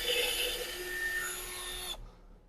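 Power drill bores a pilot hole for a screw through a wooden shelf, giving a steady whirring grind with a rising whine that stops abruptly near the end, close and clear with no talking.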